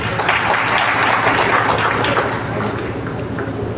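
Steady audience applause from a large crowd at a speech event, dense and continuous clapping throughout, loud and close without any voices.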